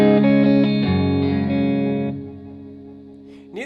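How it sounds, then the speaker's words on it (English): A single strummed electric guitar chuck runs through a Roland Space Echo style tape delay on a Line 6 Helix with an Essex A15 amp model. The chord rings out loud, then echoing repeats trail off and fade over a few seconds. "Let's go ahead and turn on our Cosmos delay, which is this top path, which I think is the Roland Space Echo."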